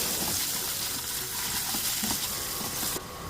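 Potatoes fry in hot ghee in a kadhai, a dense, even sizzle with stirring. It sounds close and continuous, with no talk.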